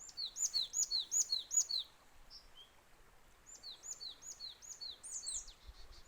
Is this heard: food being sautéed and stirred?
no